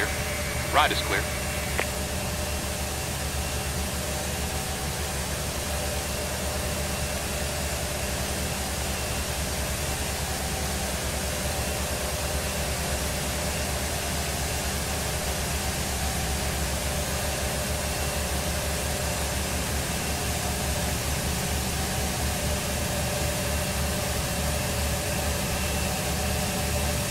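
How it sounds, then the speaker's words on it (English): Embraer E175 jet engines spooling up during start in a flight simulator, a steady broadband roar and hum that stays loud and constant throughout, with a brief higher whine near the beginning. "sounds like we had a couple good engine starts"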